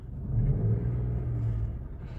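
Tractor engine idling and rumbling on a village road: a steady low, throaty drone heard close and fairly loud throughout, with no talk.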